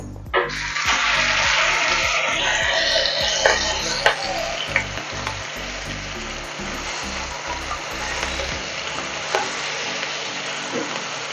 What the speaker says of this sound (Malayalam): നമ്മുടെ വേണ്ട എണ്ണ ചൂടായി വന്നിട്ടുണ്ട് കേട്ടോ നമുക്ക് നമ്മുടെ കോവയ്ക്ക വേണ്ട നമുക്ക് എടുത്തിട്ട് കൊടുക്കാം